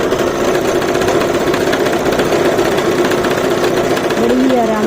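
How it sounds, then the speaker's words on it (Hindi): A Brother GS1700 sewing machine runs steadily through a straight seam on a poncha hem, its fast mechanical whir continuous and close throughout, with a faint tonal whine near the end. "ये यहाँ किनार पे सिलाई लगा लेंगे सीधी वाली"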